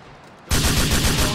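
Burst of rapid gunfire in the GTA 4 video game, loud and close, with repeated sharp shots in quick succession right after a brief quiet moment.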